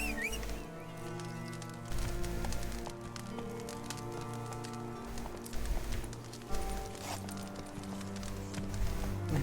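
Steady rhythmic hoofbeats of a horse galloping in The Witcher 3, carrying on throughout over layered game music and ambience.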